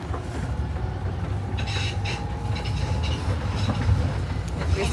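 An old train rolls along the rails with a steady low rumble and continuous rattling clatter, mid-distance and fairly loud throughout, with no talk.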